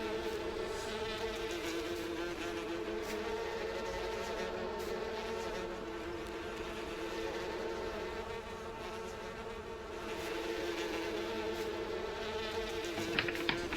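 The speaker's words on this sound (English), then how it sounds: "we've got bees and they're flying out like crazy." A dense swarm of bees buzzes steadily as the insects stream out of their hives on a Farming Simulator 19 farm, a continuous loud drone that swells and eases slightly throughout.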